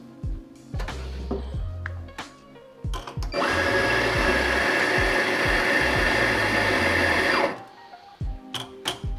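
An espresso coffee grinder runs for about four seconds to clear out old grounds, giving a loud, steady whirring buzz. Scattered clicks and taps of handling come before and after it.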